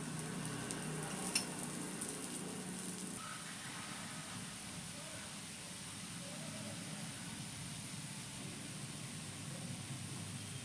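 Breadfruit slices coated in rava shallow-fry in oil with a steady, low sizzle that holds at an even level throughout.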